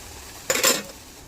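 A utensil scrapes and clinks against a pot as rice is stirred while cooking Bengali prawn biryani, one brief close metallic scrape lasting about a third of a second in a quiet kitchen.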